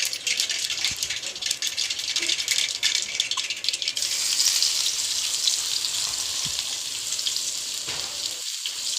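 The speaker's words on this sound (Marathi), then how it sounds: "तव्यामध्ये तेल गरम करून त्यात जिरे, मोहरी, लसूण टाकून घ्यायचं आहे." Cumin, mustard seeds and garlic sizzle in hot oil in a pan: a loud, steady, crackling hiss that runs unbroken throughout with no voices over it.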